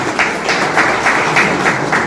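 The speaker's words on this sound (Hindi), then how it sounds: "तालियां बजा के उसका स्वागत कीजिए।" An audience claps at a political gathering in a steady, continuous patter of many hands with a rhythmic pulse, close and moderately loud, with no talk over it.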